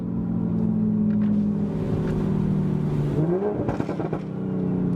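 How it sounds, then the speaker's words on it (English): A 2023 Toyota Supra 3.0 Premium manual with an aftermarket CTS intake pulls hard at full throttle, its engine drone rising steadily in pitch before a shift, loud and close throughout. "just full throttle, just full throttle."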